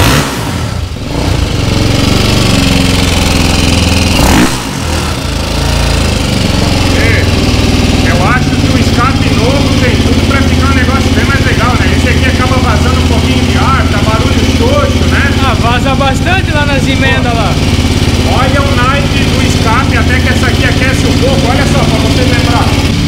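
A street-documented Titan motorcycle engine built out to 353cc with an inverted motor runs loud and close, holding a steady idle with slight revs while people talk over it throughout.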